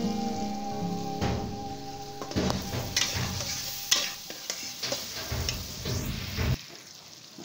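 Kaleji pota mixed in a hot pan with red chili powder and salt, bright sizzling under repeated scraping, clattering stirs, close and fairly busy, dropping off abruptly near the end, with no talk.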